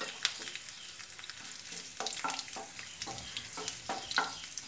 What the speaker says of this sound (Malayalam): ഇപ്പോൾ നമുക്ക് ഉണക്കമുളക് ഇതിലേക്ക് ചേർക്കാം.